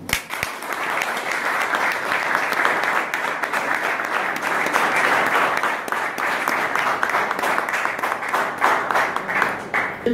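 An audience at a peace ambassador ceremony breaks into dense, sustained applause that carries evenly for about ten seconds, with a faint voice beneath it.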